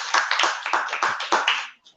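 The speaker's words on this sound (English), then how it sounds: "Please clap for her." An audience at a school mentorship programme claps for a student, a steady patter of many hands lasting a couple of seconds before it breaks off abruptly.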